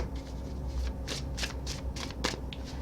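Large tarot cards with very pointy ends are shuffled by hand, a run of quick papery riffles and flicks in irregular bursts, close and fairly clear, with no talking.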